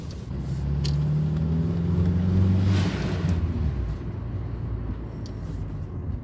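A 1995 Fiat Tipo 1.6 i.e. drives past with a steady engine drone that swells toward the middle and then eases off, the hum of the motor sitting low and continuous with road noise around it.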